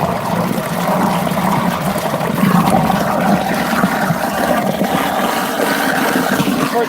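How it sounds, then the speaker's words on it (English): Water drains steadily through holes in the bottom of a bucket, making a continuous rushing, splashing trickle. It is close and fairly loud, with no voices. "because there's holes in the bottom of the bucket, it's draining through."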